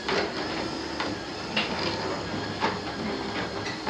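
A garage overhead door opener motor drones steadily, with rattling and periodic clicks from the moving door, which is bent and does not work right, loud and continuous throughout.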